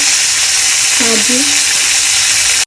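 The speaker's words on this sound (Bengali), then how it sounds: "তিন মিনিট নাড়াচাড়া করে ভেজে নেব" Shredded cabbage dish stir-frying in a pan for a high-protein winter recipe, a loud, continuous close-up sizzle and hiss that barely changes, with a brief voice murmuring over it.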